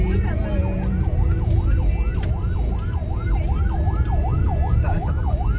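A loud wailing siren sweeps up and down repeatedly in a steady cycle, close by, over a constant rumble of traffic or engine noise.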